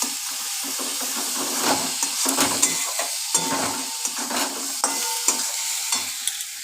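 Spice paste with ginger paste for a rohu fish curry being stir-fried in a pan, a steady close sizzle broken by repeated scraping strokes of a spatula, with no talking.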